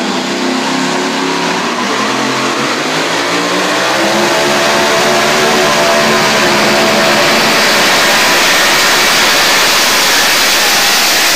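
A super modified two-wheel-drive truck engine revs hard and close, a loud, dense roar that climbs steadily in pitch and intensity with no talk.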